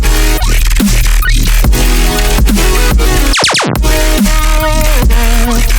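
A loud dubstep track pounds along, then a single sharp descending laser zap cuts through near the middle before the heavy beat resumes.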